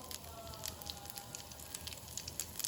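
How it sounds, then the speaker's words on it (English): A ground cranberry thokku mixture with red chilies sautés in a pan, giving a faint, steady sizzle with light crackling pops throughout and no talk. "I'm going to put the ground mixture here and kind of saute it."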